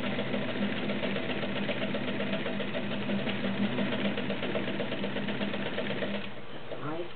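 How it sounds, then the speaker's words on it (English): A retro green-and-cream heavy-duty sewing machine stitches a wide zigzag, giving a steady, smooth mechanical whir with a fast even chatter throughout. It stops near the end. "Nice smooth running machine."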